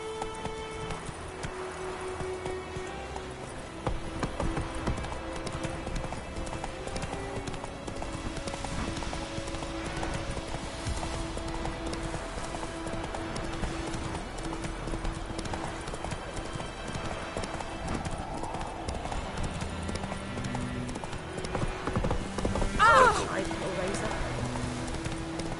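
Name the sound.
horse galloping in video game Witcher 3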